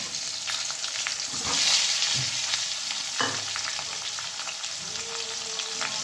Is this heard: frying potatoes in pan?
yes